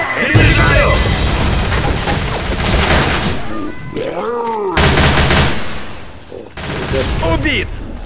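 Gunfire and grenade blasts in the zombie shooter Left 4 Dead, loud and continuous with bursts of shots and deep booms, under shouted voices.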